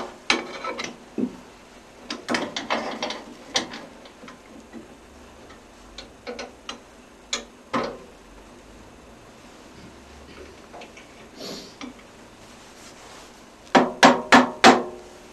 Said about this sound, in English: I just take the chisel across